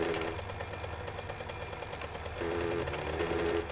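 Mini bike engine in the 7 Days to Die video game, a steady buzzing idle that runs continuously and grows slightly louder partway through.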